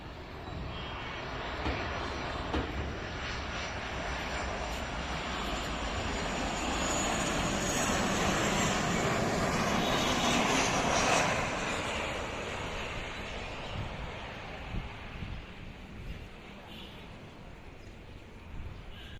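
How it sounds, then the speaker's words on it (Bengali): A China Eastern Airlines Boeing 737 approaching to land drones steadily overhead, its broad engine roar swelling toward the middle and easing off, with no voices present. "অবতরণের জন্য এগিয়ে আসছে চায়না স্টার্ন এয়ারলাইন্সের বোয়িং সেভেন থ্রি সেভেন মডেলের এই বিমানটি"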